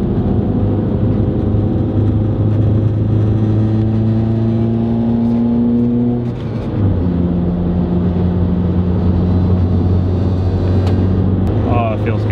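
A Mazda 3 being driven gives a steady, loud engine drone from inside the cabin, its pitch climbing through the gears with a brief dip at a shift, under road rumble.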